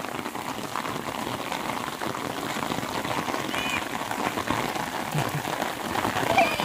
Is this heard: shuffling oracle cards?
no